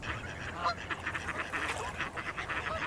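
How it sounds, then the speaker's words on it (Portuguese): Ducks at a wetland edge in Utah give repeated quacks and honks, a fairly near, continuous chatter of overlapping calls. "Ao detectar uma ameaça iminente, os patos não pensarão duas vezes e fugirão rapidamente"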